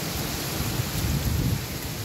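Heavy rain with strong wind during a thunderstorm, a steady dense roar of rain with low rumbling underneath, continuous and close throughout.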